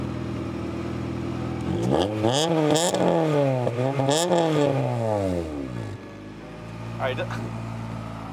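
Honda Integra GSR engine with an eBay exhaust revving up and down several times, a raspy rising and falling roar near the tailpipe between idle stretches, with a brief spoken remark.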